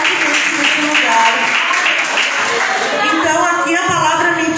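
A church congregation applauds during a deliverance worship service, a steady dense wash of clapping and crowd noise that holds loud throughout, with voices mixed in under it.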